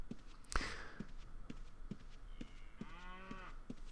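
A cow in the video game Ultima Online lets out a single drawn-out moo, rising and falling, between soft rhythmic footsteps with a brief sharp click just before it.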